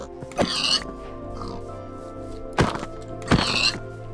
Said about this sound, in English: And I hear pigs, which means we're gonna be fed tonight.